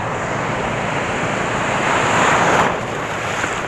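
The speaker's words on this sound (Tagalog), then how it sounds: "Lalaki ng alon" Loud, continuous roar of large ocean waves crashing and surging against the shore at a shore-fishing spot, with a swell in intensity near the end and steady wind rumble underneath.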